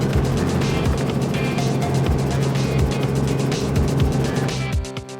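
Motors of a Concept 39 powerboat running on a winter fun run, a loud, steady droning roar that holds throughout and fades slightly at the very end, with no talking.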